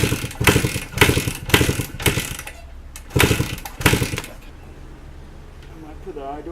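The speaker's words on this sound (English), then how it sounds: "What I might do is actually kick it without the spark plug with throttle right open." A 1981 Suzuki RM 250 motocross bike is kicked over with its spark plug removed and the throttle held open, producing several loud rapid mechanical churning bursts in two groups, then quieting to faint background noise.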